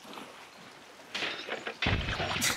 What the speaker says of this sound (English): Oh, heavy rain, too, no?